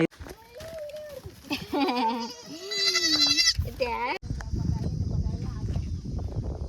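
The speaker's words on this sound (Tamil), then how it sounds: "இது இருக்கு பாருங்க ஆடு" Goats bleating on a goat farm in Dharmapuri, several wavering bleats close by, one after another, with someone talking in between and over them.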